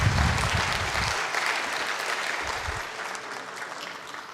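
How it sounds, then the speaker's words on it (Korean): A church congregation at a Sunday afternoon service applauds warmly, a steady wash of clapping that slowly fades, with a few low thumps near the start. "우리 뜨거운 박수 부탁드리겠습니다"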